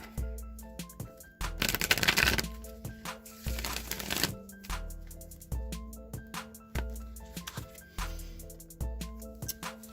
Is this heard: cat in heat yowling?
no